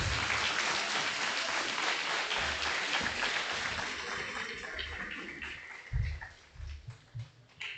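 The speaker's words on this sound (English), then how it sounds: "Please continue to clap for our MEC." Audience applause at the launch of a university smart lab and robotics project fills the room with dense clapping, gradually thinning, while a few low thumps and knocks sound near the end.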